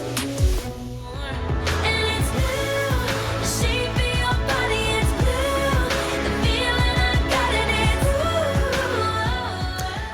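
A pop song playing, a steady beat under layered synths and vocals, continuous and moderately loud throughout.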